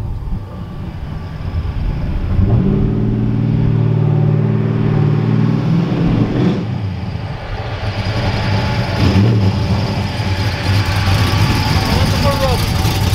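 A car's tire rubbing in the back after a front end swap, a steady droning grind with the engine running, loud and close throughout with no talking.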